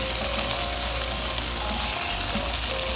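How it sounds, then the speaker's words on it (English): Ginger garlic paste and diced tomato fry in a pan with a loud, continuous, even sizzle that stays close and steady the whole time, with no voices. "Now mix them well for at least, and let them like fry for at least 2 minutes."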